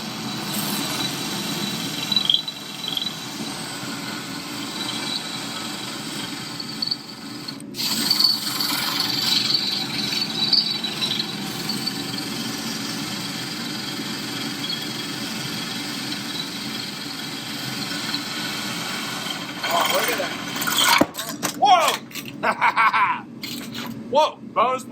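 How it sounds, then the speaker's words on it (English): A 60-volt drill mounted in a homemade drill press whirs steadily for a long stretch under a background hum, with a few louder bumps and knocks toward the end. "You know that drill's going to go through that."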